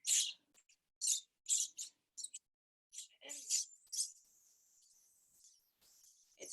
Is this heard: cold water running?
no